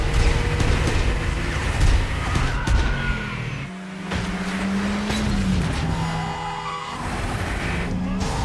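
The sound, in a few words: car chase, cars racing away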